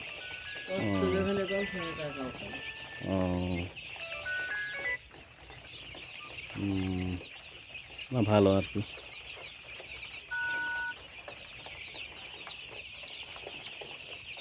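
Chickens on a poultry farm of about fourteen hundred birds cluck in a steady background murmur, with louder close calls standing out, while people talk over them throughout.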